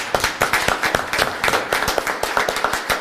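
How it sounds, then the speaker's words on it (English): An audience claps for a row of volunteers at the back of a church hall during a grand opening, many quick overlapping hand claps forming steady, moderately loud applause with no one talking. "I just want everybody to applaud them"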